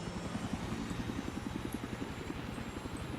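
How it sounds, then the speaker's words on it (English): A helicopter from the video game Battlefield 3 whirs with steady rapid rotor chopping and a droning engine, continuous and fairly close throughout, with no voices over it. "I got the chopper."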